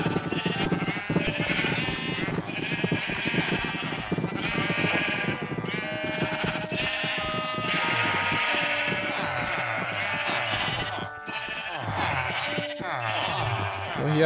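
Sheep bleat in the Minecraft video game, several overlapping calls against a busy background of upbeat game music, fairly steady throughout.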